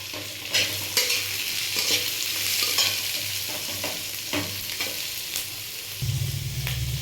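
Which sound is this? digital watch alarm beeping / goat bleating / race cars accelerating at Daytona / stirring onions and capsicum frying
stirring onions and capsicum frying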